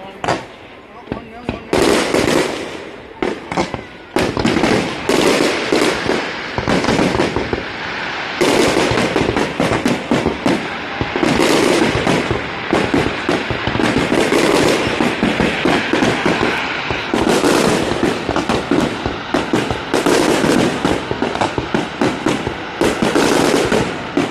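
A fireworks display in Dunnville at the Mud Cat festival crackles and pops in rapid bursts, booms and machine-gun-like strings of firecracker reports, with people talking nearby between the loud volleys.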